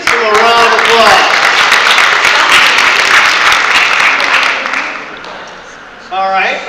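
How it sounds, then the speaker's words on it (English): Loud crowd applause filling the space, fading toward the end before a voice cuts back in. "Let's do a round of applause."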